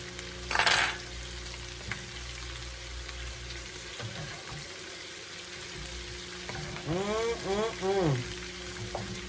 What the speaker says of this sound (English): frying up this cabbage and bacon and onions